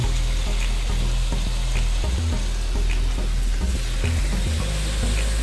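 Fire-roasted tomatoes cook in a pan beside chicken fajitas, giving a continuous loud sizzle and bubbling crackle with faint low thumps, near and steady throughout.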